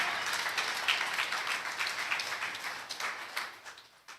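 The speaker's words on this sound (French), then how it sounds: "Applaudis le Seigneur pour moi. Applaudis le Seigneur!" A church congregation claps together in sustained applause, a dense, steady patter of many hands that fades slightly toward the end.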